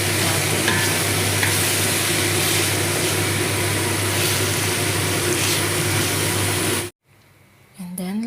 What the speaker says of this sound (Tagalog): halo lang natin.